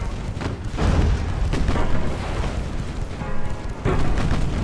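Heavy naval gunfire and shell hits in the warship game Ultimate Admiral: Dreadnoughts, with repeated deep booms and rumbling blasts overlapping in a loud, continuous barrage.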